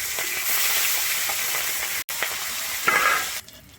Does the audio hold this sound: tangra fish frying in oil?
yes